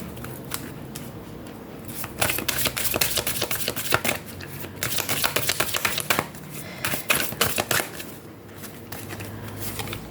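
Oracle cards being cut and shuffled by hand, a dry papery riffling and flicking that comes in repeated bursts, close and fairly loud, with no talking.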